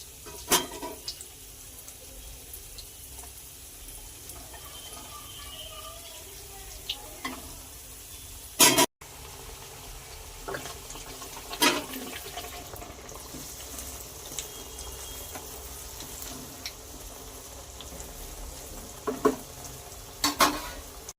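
Jaggery ariselu sweets deep-fry in hot oil for a Sankranti dish, a steady low sizzle with occasional sharp clinks and splashes from a utensil in the pan.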